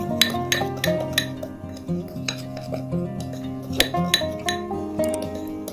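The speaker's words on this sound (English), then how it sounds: "Mix the dry ingredients together." Wheat flour and yeast mixed in a bowl with a spoon: irregular, close clinks and scrapes of metal against the bowl, with sharp taps spaced through a few seconds and a soft hum underneath.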